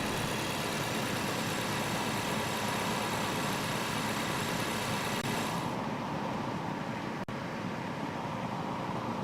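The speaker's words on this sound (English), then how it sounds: "This car does not make that sound in real life." A car engine idles in the Roblox driving game Greenville, a steady, even drone that holds throughout with no talking, thinning slightly in its upper hiss partway through.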